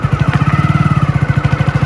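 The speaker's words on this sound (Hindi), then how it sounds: "देखो कितनी स्मूथली बाइक आगे बढ़ रही है" Motorcycle engine pulling away smoothly as the clutch is slowly released and throttle added, a loud, close, rapid rhythmic thumping beat that holds steady throughout.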